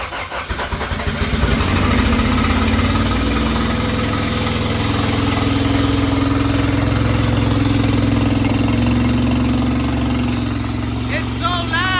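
A freshly built turbocharged Honda engine cranks, catches and settles into a loud, rough idle that drones steadily up close, with voices talking briefly near the end.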